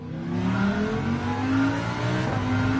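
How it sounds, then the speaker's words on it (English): A Lamborghini race car in a racing game at Watkins Glen, its engine droning and revving steadily with a whining, rising and falling pitch, loud and close, with no talk over it. "Do a couple laps over here to get fired up in the Lamborghini"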